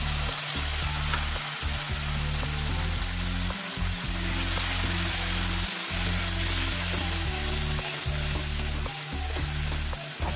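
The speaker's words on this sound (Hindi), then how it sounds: "मसाला टमाटर, प्याज, काजू और अदरक पीस के रखा था वो मसाला को मैंने" A ground masala of tomato, onion, cashew and ginger fries over fried onion for a prawn curry. It gives a loud, constant sizzle with stirring scrapes and a low steady hum underneath, and no one speaks.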